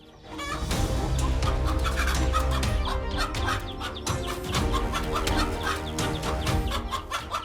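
A mother hen guarding her nest on dry ground clucks steadily and agitatedly, close and fairly loud, in a continuous run of calls without speech.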